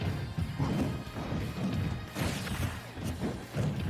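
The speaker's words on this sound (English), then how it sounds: "So terrifying watching Bowser crashing down above you" Bowser crashing down in a Super Smash Bros match, heavy smashing impacts and thuds mixed with whooshes and game effects, repeated over a few seconds at moderate loudness.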